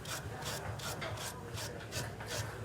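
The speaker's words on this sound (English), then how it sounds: "So the brass brush is actually transferring to the steel." A brass wire brush scrubs a forged steel rose in quick, rhythmic strokes, about six rasping passes close by with no talking.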